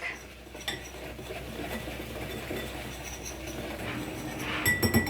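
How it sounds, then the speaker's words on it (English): Salad dressing made with dry buttermilk powder and black pepper being whisked in a bowl, a steady scraping and clinking of the whisk against the bowl running throughout at moderate level, with a few sharper clinks near the end; no talking. "And then just give this a really good whisk."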